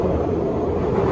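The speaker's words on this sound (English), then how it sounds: "Train." A train passes on a London street, a steady, dense low rumble that holds at an even loudness without voices on top.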